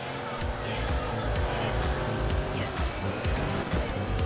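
A race car overtakes in a racing video game, with a loud, continuous engine roar and a brief tire squeal, heard under a voice talking over the gameplay.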